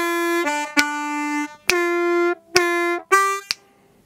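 Harmonica playing an electric blues lick of sustained draw notes with whole-step bends, several held reedy tones separated by sharp attacks, the pitch sliding at the bends, played solo and up close.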